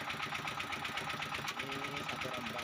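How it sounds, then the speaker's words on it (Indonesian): A molen mixer machine runs steadily while red bricks are molded by a small work crew, giving a continuous mechanical whir with rapid rhythmic knocking and rattling throughout. "pencetakan bata merah menggunakan mesin molen ya"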